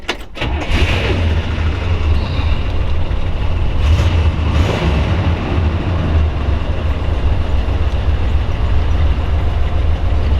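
A 1965 Buick Skylark Gran Sport with a 401 V8 fires up and settles into a rumbling idle, deep and steady, recorded close and loud.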